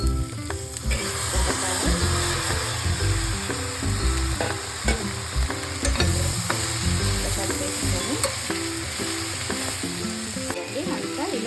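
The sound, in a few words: frying ginger, garlic, turmeric, onion, green chili, curry leaves in oil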